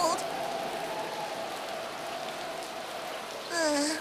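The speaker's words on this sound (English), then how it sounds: "He can play in a nice warm room while I've been driven out in the rain." Steady rain falls in a cartoon scene, an even hiss of drops throughout, with brief voice-like sounds at the start and near the end.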